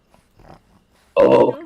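A dog gives a few soft, low snorts before a louder, close growling grunt bursts out near the end, with no speech over it.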